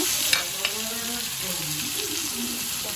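Tomato tipped into a pan of onions frying until reddish, giving a steady close sizzle with brief stirring clatter near the start, no talk.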